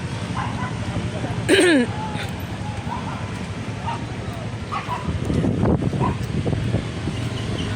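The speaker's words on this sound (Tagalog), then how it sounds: "Mahangin talaga ngayon eh" Steady outdoor wind rushing and buffeting the microphone, with a dog barking and yipping briefly and faint voices underneath.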